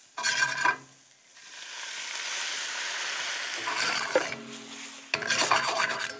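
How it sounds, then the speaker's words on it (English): White wine hits a hot pan of cooked shallots, giving a loud, close sizzle mixed with scraping and stirring, which swells in uneven bursts and then eases as the liquid bubbles. No one speaks. "we want now to deglaze it with a little bit of white wine"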